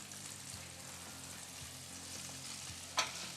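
Fish fries in bacon fat with a steady soft sizzle, quiet and close, and a short scrape as a piece is flipped near the end.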